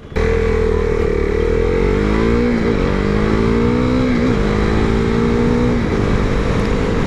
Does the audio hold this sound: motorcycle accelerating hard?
yes